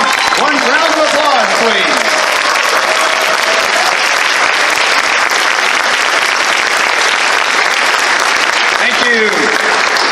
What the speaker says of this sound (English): We all give them a round of applause